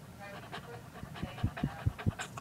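A dog pants and huffs close by, with soft rhythmic breaths and a few low snorts growing stronger toward the end.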